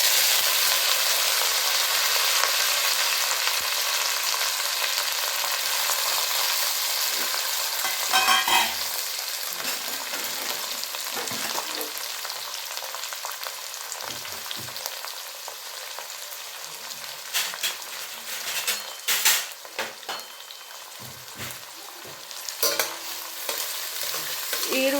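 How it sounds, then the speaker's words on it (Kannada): Onions fry in hot oil with fresh coriander leaves for tomato gojju, a loud broad sizzle that slowly fades, broken by spatula stirs and scrapes growing more frequent toward the end, with no talking. "ಈರುಳ್ಳಿನ ಎಣ್ಣೆಯಲ್ಲಿ ಚೆನ್ನಾಗಿ ಫ್ರೈ ಮಾಡ್ಕೊಂಬಿಡೋಣ"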